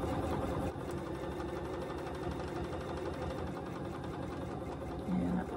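A Bernina sewing machine free-motion stitches a quilt along a ruler with a continuous fast mechanical whir. It is moderately quiet, and small changes in speed can be heard.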